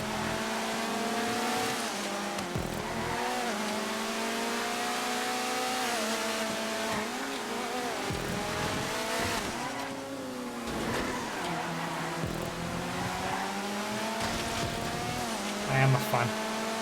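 Rallycross race cars in GTA 5 on a short track with jumps and tight sections: engines rev and shift continuously, pitch rising and falling through gear changes, with a voice talking over the engine noise throughout.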